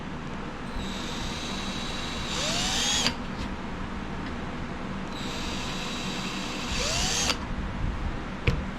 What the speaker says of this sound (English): And drill us a little pilot hole.